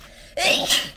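A single sharp human sneeze sounds close and loud after a quiet moment, a brief explosive burst with no words.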